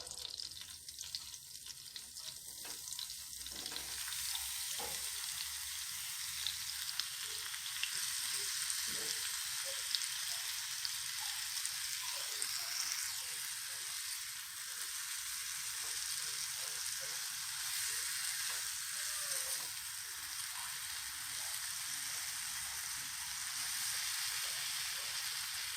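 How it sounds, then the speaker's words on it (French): Fruit seasoned with cinnamon fries in a hot pan for a caramelized crêpe filling, giving a steady, loud, broadband sizzle that runs unbroken throughout, with no voices over it. "Je verse les fruits et je vais les faire cuire juste quelques minutes"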